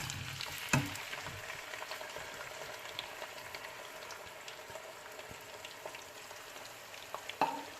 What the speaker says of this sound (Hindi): अब हम इसको फ्राई करेंगे जब तक ये ब्राउन नहीं हो जाता